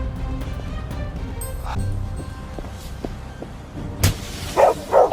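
A dog barking amid street noise, several short sharp barks bunched near the end after a stretch of low background rumble and faint scattered sounds.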